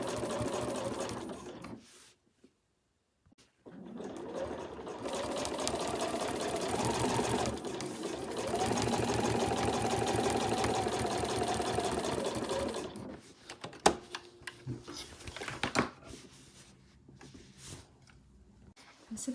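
Sewing machine stitching through several fabric layers of an overlocker cover, a steady fast whirring run in two bursts separated by a brief pause, followed by lighter intermittent sounds and a person talking.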